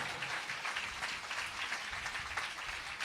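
A congregation claps steadily during a praise service at a church gathering, dense and continuous hand applause filling the room without pause.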